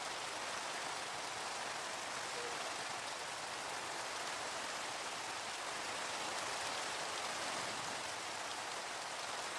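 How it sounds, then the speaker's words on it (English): Steady, even rain patters down in a video game about mining for coal, a dense wash of falling drops that continues unbroken with no voices over it. "now we're just gonna sit in the rain"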